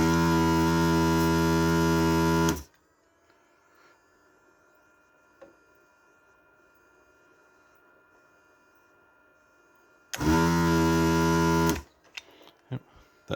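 A desoldering tool pumps and sucks solder from a hole in an IBM ThinkCentre computer board: a loud, steady buzzing hum lasting a couple of seconds, a long quiet gap, then a second hum followed by small clicks.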